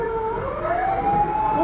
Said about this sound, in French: Il aurait dû freiner et laisser passer l'ambulance.